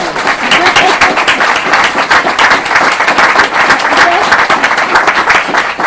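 A 50th class reunion audience breaks into a loud, sustained round of applause, with dense clapping filling the room from start to finish.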